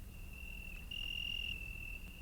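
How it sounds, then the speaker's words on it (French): Crickets chirp at night, a steady high continuous trill with one louder insect swelling in the middle, set against a quiet low outdoor rumble with no voices. "Un peu partout, les grillons continuent à chanter."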